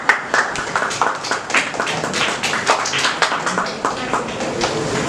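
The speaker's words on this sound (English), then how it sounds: "Please give a huge round of applause." An audience at an academic session on digital marketing gives a round of applause for the speaker, with moderately loud, steady clapping and sharp individual claps standing out.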